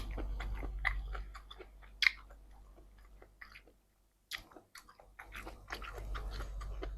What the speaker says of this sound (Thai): เอาถั่วต่ำใส่ตัวมันจะกรุบกรุบกรอบกรอบ